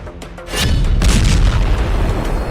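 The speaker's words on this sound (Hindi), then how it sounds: "फिर जबरदस्त धमाके की आवाज के साथ दोनों प्लेन जमीन पर आ गिरते हैं।" A sudden loud boom from two planes colliding and crashing to the ground erupts into a heavy, rumbling roar that lingers for a couple of seconds, close and powerful.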